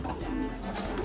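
A nine-year-old pigeon coos softly in a short, low burst against a faint background hum, with no voices.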